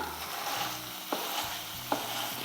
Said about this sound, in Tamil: இப்போது இந்த மசாலாவை நல்லா மேஷ் பண்ணி விடலாம்